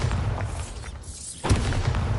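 A Bombarda spell blast in the video game Hogwarts Legacy: a dull booming burst after a brief near-silent gap, set in a dense, loud game soundscape.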